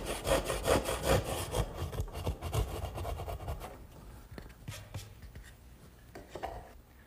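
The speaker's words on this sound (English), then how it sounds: "my 10-point crosscut saw does a good job finishing up the corners" A 10-point crosscut saw cuts through wood in quick, rhythmic rasping strokes, loud and close at first and then lighter and more broken as the cut finishes at a corner, with no voices.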